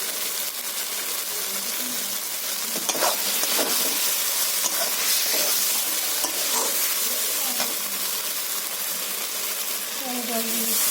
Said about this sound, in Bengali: ভেজে রাখা বেগুনটা আমি দিয়ে দিচ্ছি।